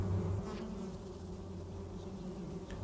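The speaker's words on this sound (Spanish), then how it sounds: "Un zumbido infernal puede escucharse desde unos 91 metros de distancia." A dense swarm of bees hums around flowering prickly pear cactus in the Sonoran Desert, a steady low droning buzz, moderately close, with a slightly louder pass at the start and no voices.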